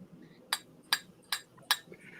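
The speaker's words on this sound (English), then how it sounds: "that's the ice cubes." Ice cubes clink against a cup of water in four sharp, evenly spaced taps, faint and close, with no talk.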